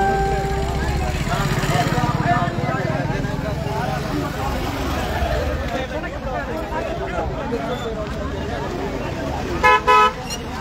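Road traffic at a highway accident site near Ulup in Bhoom taluka, with cars idling and passing and a few short horn toots near the end, under continuous talk from people nearby.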